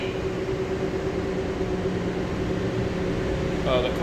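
An automated concourse train at Denver airport idles before moving off, giving a steady low hum and whir from the car's machinery that is faint and constant, with a brief chime-like tone near the end.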